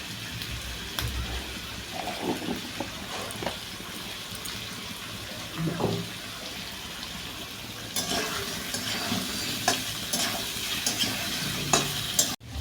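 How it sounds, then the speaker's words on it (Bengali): Potatoes and onions fry in ghee in a pan at close range, a steady sizzle broken by several louder scraping stirs, with no one speaking. "আলু আর পেঁয়াজ ভাজা হতে থাকুক"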